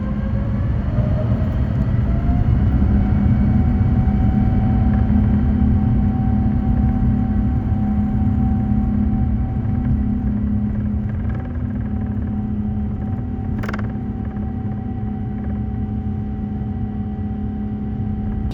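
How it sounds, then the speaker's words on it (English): An airliner takes off from a snowy runway in Helsinki after de-icing, heard from inside the cabin as a loud, steady engine roar and rumble with a rising whine, continuous throughout. "After the de-icing, we pull straight onto the runway for takeoff."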